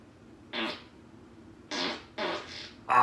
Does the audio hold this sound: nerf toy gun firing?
no